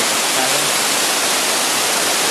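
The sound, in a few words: small waterfall in the Kakuetta gorge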